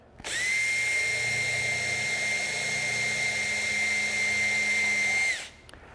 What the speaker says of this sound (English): If you accidentally select reverse, it will be very hard to drill this pilot hole